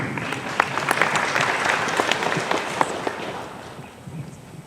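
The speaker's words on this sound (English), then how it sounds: "That was such a polite smattering of applause." Modest audience applause at a fan convention panel, scattered, fairly close claps that thin out and fade near the end.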